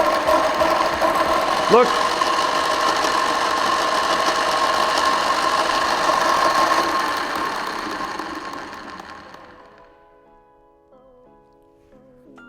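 An Amazon go-kart motor runs after being switched on, giving a steady, fairly loud mechanical whir with a rattling edge that winds down and fades out near the end; a voice speaks briefly over it.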